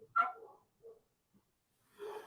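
A puppy gives a few short, soft whimpers and yips, with one brief sound, a couple of faint breaths or snuffles, and a final whine separated by silence, all quiet and close.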